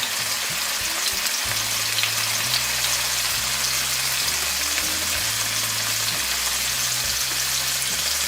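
Tofu fries in a hot pan for a vegan fried egg, a dense steady crackling sizzle heard close and alone for the whole clip, with no talk.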